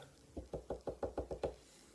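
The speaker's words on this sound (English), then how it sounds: "Maybe I should have knock on wood" Seven evenly spaced, fairly quiet knocks on wood come in a quick steady rhythm, each a short hollow thud, with silence before and after.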